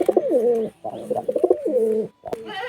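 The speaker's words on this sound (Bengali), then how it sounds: "এই পায়রাটা সেলের মধ্যে আছে।" Close, loud cooing from caged pigeons at a Beldanga market in Murshidabad, several rolling coo phrases separated by short gaps, ending in a brief rustle and another call.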